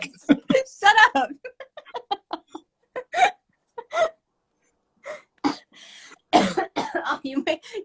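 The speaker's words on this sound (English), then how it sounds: "Oh, you made me have a coughing fit." Repeated coughing in a sharp, irregular fit of hacking bursts close to the microphone, separated by short gaps and mixed with gasps and a little talk.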